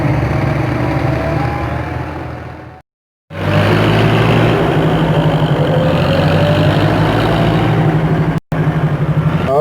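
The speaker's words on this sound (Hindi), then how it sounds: "बिल्कुल छोटा सा बच्चा है जो यहाँ पे ट्रैक्टर चला रहा है।" A tractor engine runs while being driven through a village, a loud, steady chugging drone held close throughout, broken by two brief dropouts, with no talk over it.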